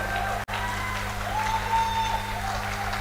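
Sustained, dense applause from an audience honoring Reverend Ray after a church-style praise session; steady clapping fills the whole stretch, with a brief dropout near the start and a faint tonal hum underneath.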